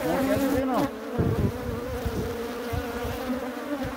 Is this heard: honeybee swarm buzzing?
yes